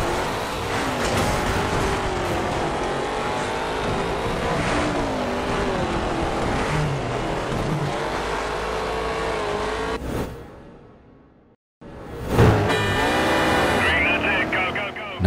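Racing cars from the Dirt video game roar and rev continuously with shifting engine pitch, loud and close, under someone speaking over them; the engines drop out briefly near the end before surging back.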